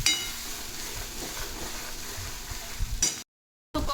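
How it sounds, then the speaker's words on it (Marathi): A paste of coconut, onion, coriander and garlic fries in oil for a shev bhaji masala, a steady, close sizzle with faint stirring scrapes that stops abruptly into a brief silence before resuming. "खोबरं कांदा कोथिंबीर लसूण याचं वाटण छान असं परतलेलं आहे"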